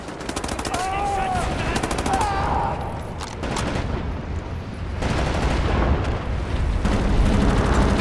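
Sustained machine gun fire from the video game Wolfenstein: The New Order, dense rapid bursts over continuous battle noise with booming impacts, loud and steady throughout, with faint voices mixed in.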